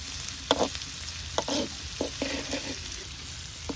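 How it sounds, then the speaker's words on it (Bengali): Cashews, almonds, onion and green chili fry lightly in a little oil, a soft steady sizzle broken by several sharp scrapes and stirs of a spoon against the pan, close up and without speech. "এখন কাজু বাদাম, কাঠবাদাম, পিঁয়াজ আর মরিচটারে হালকা তেলে ভাজিয়ে এইবার ব্লেন্ডার করে লইতে হইবে।"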